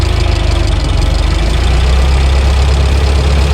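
A 1923 Ford Model T engine runs loudly and steadily up close with a low, rumbling, knocking idle while the car is shifted into reverse.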